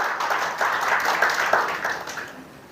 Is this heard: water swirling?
no